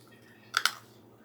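Two sharp crunchy bites into freeze-dried fruit cocktail dipped in chocolate, close and quick in succession, set against a quiet room.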